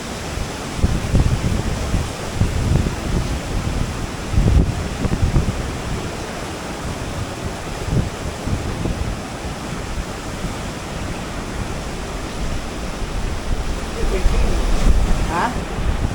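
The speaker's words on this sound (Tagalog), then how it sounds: "Ang hangin." Steady wind on Polillo Island roars and gusts against the microphone for the whole stretch, a dense, rushing noise with no voices.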